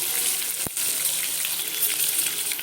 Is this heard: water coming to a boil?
yes